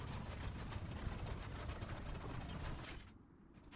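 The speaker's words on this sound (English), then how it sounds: "then proceed up the elevator" Elevator machinery grinds and ratchets steadily in the video game Enotria: The Last Song, a continuous mechanical rumble with clicking gear texture that drops off near the end.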